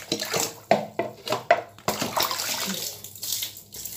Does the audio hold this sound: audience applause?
no